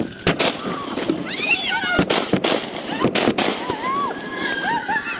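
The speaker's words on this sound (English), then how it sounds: "County 150, shots fired, shots fired." About five sharp gunshots ring out unevenly over a few seconds during a Nevada County sheriff's confrontation, with tense raised voices shouting between and over the bangs.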